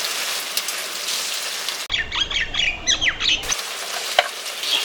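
Panch phoron spices dropped into hot oil for a sweet-sour-spicy pickle burst into a loud, crackling sizzle mid-clip, rising sharply over a steady background frying hiss for about two seconds before settling back.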